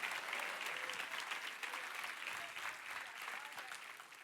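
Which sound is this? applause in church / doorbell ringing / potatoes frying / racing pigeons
applause in church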